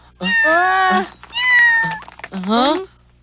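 A cartoon cat meows three times in a row, loud, drawn-out, tonal cries with short gaps between them, close and clear over a faint background hum.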